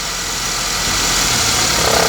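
A Honda Civic engine in drive, idling with a knocking noise, gives a loud, close, steady hum whose rapid pulsing grows toward the end, with no talking over it.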